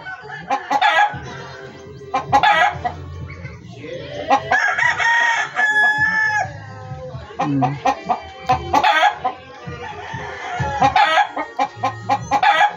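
Rooster crowing repeatedly among steadily clucking chickens and hens, loud and close, with a low hum underneath on a backyard breeding farm.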